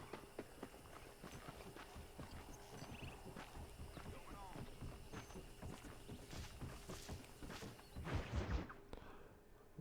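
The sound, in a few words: horse sprinting hooves in Red Dead Redemption video game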